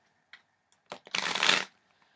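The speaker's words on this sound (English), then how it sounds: "So I'm going to begin by shuffling the deck really quickly." A deck of playing cards is shuffled quickly up close: a few soft taps, then a dense riffling flutter lasting about half a second, followed by quiet.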